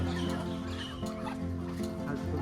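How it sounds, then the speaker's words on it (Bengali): Chinese ducks calling together at a duck farm beside a small pond, a dense, continuous chorus of quacking and squawking that stays loud and close for the whole stretch, with no talk over it. "সবগুলো কিন্তু চীনা হাঁস"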